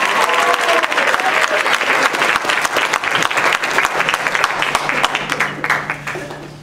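Loud, sustained applause from an audience at a spring 2014 school pop-star show, dense clapping throughout that thins out and fades near the end.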